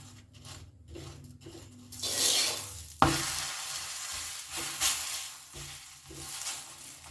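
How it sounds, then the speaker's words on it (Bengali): Methi paratha fries in white oil on a pan over a medium gas flame, a steady soft sizzle with scraping and rubbing of a spatula, one sharp tap, and the hiss swelling midway. "দিয়ে দিচ্ছি ওপর থেকে একটু সাদা তেল আপনারা চাইলে ঘিতেও বানাতে পারেন"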